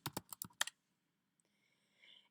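Computer keyboard typing while entering budget labels into an Excel spreadsheet: about five quick, loud keystrokes in the first 0.7 seconds, then near silence with a faint soft hiss.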